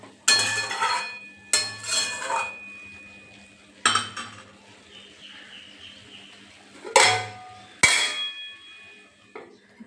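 Metal clanks and scrapes sound from a cooking pan of pumpkin as its lid is handled and set down, several sharp clinks spaced apart with a low hum between them.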